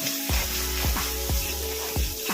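Cumin and chili paste frying in hot oil in a pan for chicken biryani: a loud, close sizzle broken by four rhythmic stirring strokes that each send up a fresh burst of spitting.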